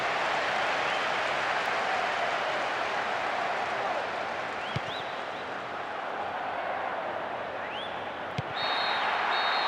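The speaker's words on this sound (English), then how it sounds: "A huge roar from the crowd as the referee blows the final whistle" A stadium crowd in Pro Evolution Soccer 6 during Barcelona vs Real Madrid, a broad sustained roar and applause filling the whole stretch, with a referee's whistle chirping briefly near the end.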